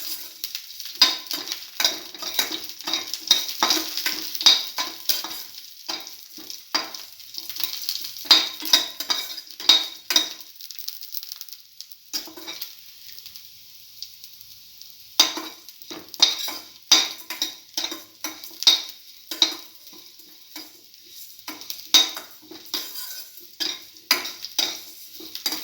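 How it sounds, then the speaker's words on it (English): Green chilies sautéing in a pan, a steady sizzle broken by repeated scraping and clinking of a utensil stirring against the metal, with brief pauses between bursts. "Keep on sauteing."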